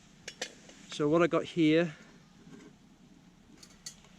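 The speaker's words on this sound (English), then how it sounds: "a hard anodized aluminium by Trangia, and it's they're like a frying pan that also goes on top of the 27 series Trangia cooker" A hard anodized aluminium Trangia frying pan for the 27 series cooker gets handled, giving a few light metallic clinks and taps, scattered before and after someone speaks briefly up close.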